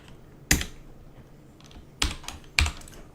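A computer keyboard typed in three short, sharp bursts of clicks, close and clear over a quiet background.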